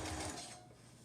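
A sewing machine runs a basting stitch in a short, close burst of steady mechanical whirring that fades slightly toward the end.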